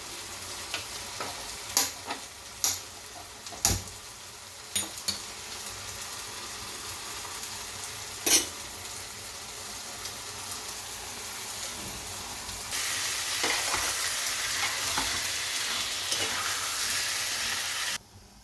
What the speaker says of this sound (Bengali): এই সাইডে গ্যাস জ্বালিয়ে আমি একটা বেগুন পোড়া করে নিচ্ছি